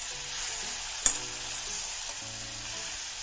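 Masala spices for a light fish curry with cucumber fry in a pan with a steady, bright sizzle close by, broken by one sharp crackle partway through.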